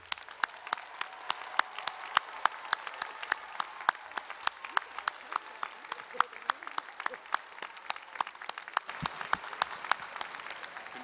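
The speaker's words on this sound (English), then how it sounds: "Please join me in applauding these graduates." Crowd applause greets graduates at a winter commencement for a college of behavioral and social sciences, with sustained clapping from a large audience, many sharp individual claps standing out against the steady wash.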